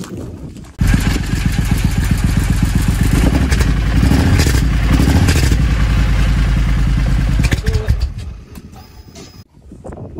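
A Triumph Thunderbird 1600 motorcycle engine cranks, catches and settles into a loud, steady idle up close. It keeps a deep pulsing rumble and a mechanical clatter for several seconds before tailing off, with no talk.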